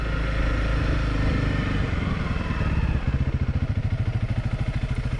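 A Honda CRF300L Rally motorcycle rides close by with a steady, full engine drone that shifts into a rhythmic, throbbing pulse partway through as it slows toward a stop.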